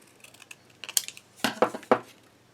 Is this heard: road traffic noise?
no